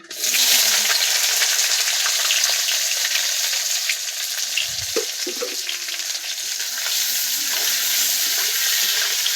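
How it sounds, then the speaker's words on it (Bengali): Chopped onion and tomato frying in oil while being stirred for a goat meat curry, giving a loud, steady sizzle with soft scraping of the spoon in the pan throughout. "এবার দিয়ে দিচ্ছি পেঁয়াজ কুচি টমেটো কুচি দিয়ে দিচ্ছি আমি তেলের মধ্যে"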